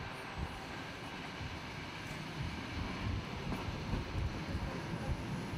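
A tourist train running through mountains to Flåm in Norway, heard from on board as a steady, dense rumble with faint rail clatter, continuous and fairly loud, with no voices.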